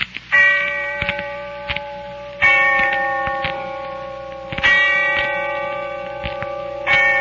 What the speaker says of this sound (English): when I heard the bell tolling somewhere in the distance